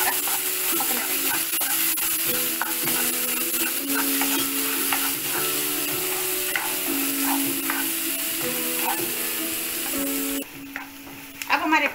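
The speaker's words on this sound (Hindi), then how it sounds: "प्याज को एकदम ट्रांसपेरेंट होने तक पकाना है" Finely chopped small-to-medium onions sizzle steadily in a pan while a utensil stirs and scrapes them in repeated strokes, the close, continuous frying hiss holding throughout with no talking.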